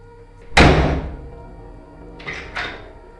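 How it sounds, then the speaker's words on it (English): A bedroom door slams shut with one loud, heavy thud that rings out into a decaying echo, followed by two fainter knocks or rattles a moment later. "Once in her bedroom, she slammed the door"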